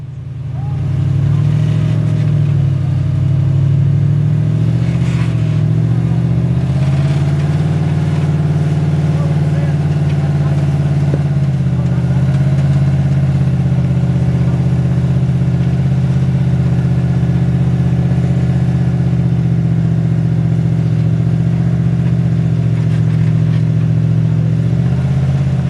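A rock crawler's engine drones steadily and loudly as it works over rocks, holding a low rumble with small shifts in pitch throughout, while a voice talks faintly underneath.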